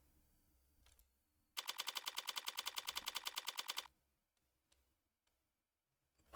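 Rapid video game gunfire rattles out in one rapid, evenly spaced burst of about two seconds, then gives way to near silence with a few faint clicks and a closing thud.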